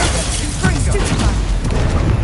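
A Confringo fire spell blasts in Hogwarts Legacy amid a magic duel, a dense booming burst filling the short stretch with rumbling low thuds and crackle, while a voice speaks over it.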